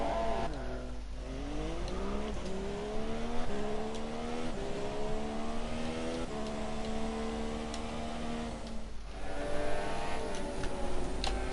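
F3 race cars on a formation lap in a racing video game, steady engine whine with gear-change steps and rising revs, a continuous mid-distance drone that dips briefly twice, with no voices.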